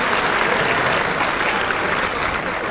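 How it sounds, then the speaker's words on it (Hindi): A crowd claps hard and steadily, a thick wash of applause that holds at full strength throughout. "ज़रूर ज़रूर एक बार तालियां बजा दीजिए"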